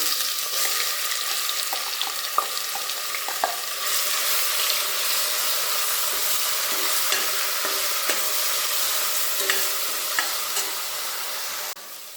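Biryani masala paste frying on a low flame in a pot with whole spices and bay leaves, a steady soft sizzle with occasional scraping stirs, close and continuous.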